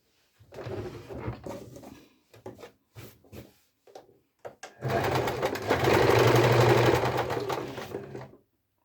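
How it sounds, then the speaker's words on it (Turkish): Sewing machine stitching both sides of a handmade wallet, running in a few short bursts before a longer steady run of continuous stitching, close and fairly loud. "Şöyle iki taraftan dikelim."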